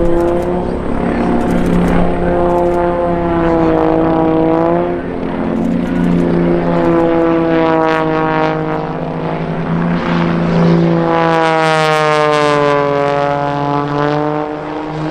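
A propeller plane flies very close to a helicopter, a loud, continuous engine drone with shifting pitch that swells and recedes without pause.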